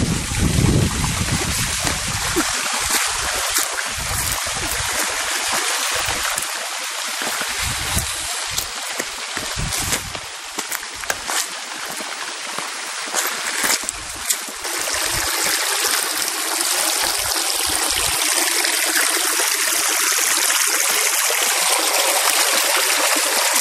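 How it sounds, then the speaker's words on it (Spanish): Clear water rushing over rocks in a stream at El Guayabal, La Unión Zaragoza: a steady, loud, broadband hiss and splash close by, with no voices over it. "mucha roca, agua, miren cómo corre, todo limpio"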